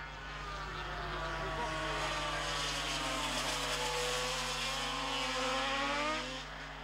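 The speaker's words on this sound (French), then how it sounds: "Mais Gardner garde la manette des gaz à fond et il remporte la course" Racing motorcycles, a Honda and a Yamaha, scream past at full throttle during a Grand Prix race, with steady high-pitched engine whine rising and falling continuously across the whole stretch.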